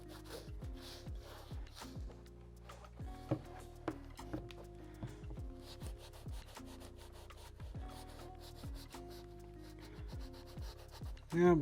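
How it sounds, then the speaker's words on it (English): A slightly dried-out cleaning wipe scrubs over suede with firm pressure, giving a steady run of soft, close rubbing strokes with no talking. "right now I'm just kind of giving it a good little scrub"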